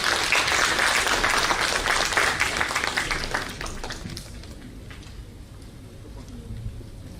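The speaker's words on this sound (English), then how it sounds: "Round of applause" Applause from a conference audience at ICVD2 in Kochi rings out as brisk clapping that fades after about four seconds, leaving room noise and faint talking.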